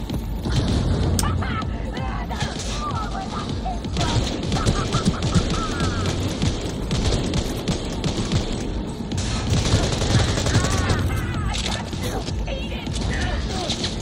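Gunfire rattles in Cyberpunk 2077, repeated shots and bursts popping amid booms and crashing combat noise, steady and loud throughout, with a voice talking over the action.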